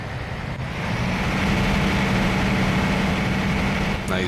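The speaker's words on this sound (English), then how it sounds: "That engine is loud." In TruckersMP with ProMods, a truck engine drones loud and low in a steady, unbroken run with a faint tonal hum, ending in a brief clatter.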